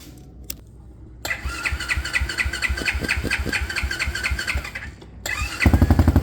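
A SyxMoto ATV or dirt bike engine cranks for several seconds with a rapid chugging rhythm, dies briefly, then catches with a louder, close-up roar.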